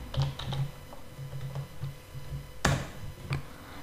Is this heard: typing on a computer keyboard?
yes